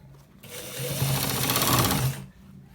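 A sewing machine stitches a designer shirt in one close, steady burst of rapid needle chatter lasting under two seconds, with quiet before and after.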